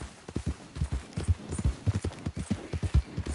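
Horse hooves gallop in a steady, rapid clip-clop rhythm in Red Dead Redemption 2, loud and close with no talk, each beat a sharp thud.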